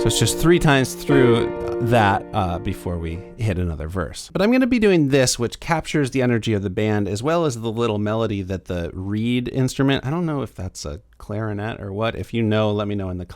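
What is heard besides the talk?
No everyday noise stands out behind the speech.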